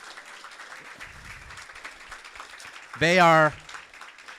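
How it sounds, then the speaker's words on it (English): Light scattered applause at a youth entrepreneurship challenge, a soft crackling patter of hands that runs under a short loud spoken phrase near the end. "Let's give them all a great round of applause."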